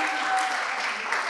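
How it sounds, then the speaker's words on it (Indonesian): Applause from a seminar audience, a dense, even patter of many hands clapping at close range through the whole brief moment, with no talk over it. "Boleh kasih tepuk tangan untuk antusiasme teman-teman semua?"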